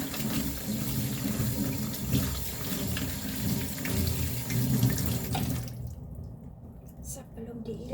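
Running tap water splashes steadily as cooking ingredients are rinsed in a sink, continuous and close, cutting off near the end while someone talks over it.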